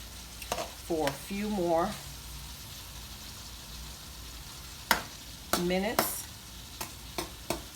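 Ackee and saltfish cooking in a pan, a low sizzle running under a person talking, with a few sharp clicks and clatters of the pan or lid.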